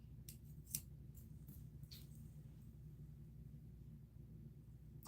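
Scissors trim fur on a handmade mask, producing several faint, quick snips over a low steady hum, close by and quiet, with no speech.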